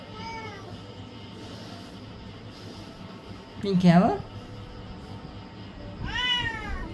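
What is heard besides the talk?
cat meowing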